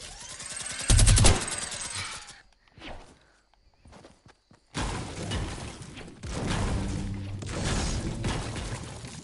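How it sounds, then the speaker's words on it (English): Rapid minigun fire from Fortnite, played on PS4, comes in loud dense bursts at the start and again through the second half, with scattered impacts and quieter gaps between them. "I love minigun sounds when they shoot"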